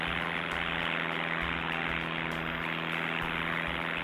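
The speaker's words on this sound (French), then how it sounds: "Regarde, un avion !" Cartoon propeller airplane droning steadily in flight, a continuous buzzing engine tone with a soft rhythmic pulse, fairly faint and alone with no voices.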